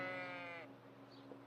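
A sheep bleats once in the medieval video game Kingdom Come: Deliverance, a clear wavering cry of about half a second, followed by quiet ambience.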